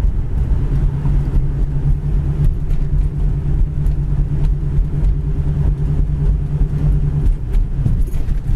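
A 1969 Pontiac Firebird 400 cruises straight down a road, its engine giving a steady, close, deep drone over continuous road rumble with no talking.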